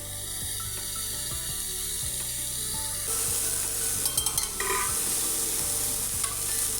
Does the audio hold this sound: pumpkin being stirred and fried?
yes